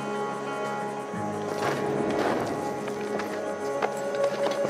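Hooves clip-clop from a horse running in a video game, rapid muffled beats under a steady droning musical background, fairly close and moderately loud throughout.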